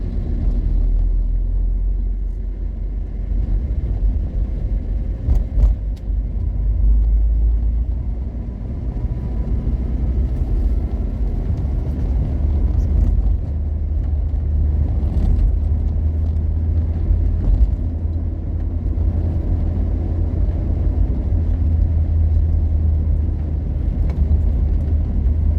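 Heavy truck engines rumble steadily along a road in central Sumatra, a continuous low drone of passing traffic with occasional louder swells and no talking.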